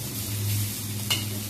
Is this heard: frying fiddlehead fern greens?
yes